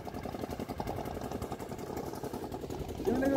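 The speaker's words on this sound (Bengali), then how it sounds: "এই সামনে কিন্তু একটা চরপাটার নৌকা পার হচ্ছে ওই পারে।" Engine of a char-pata fishing boat passing on a Sundarbans river, a steady mid-pitched chugging drone with a regular throb, continuous and moderately loud throughout.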